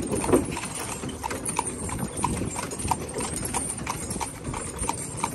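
A horse pulling a cart on a road in Guyana, its hooves clip-clopping in a steady, even rhythm from close by, with light background noise and no clear speech.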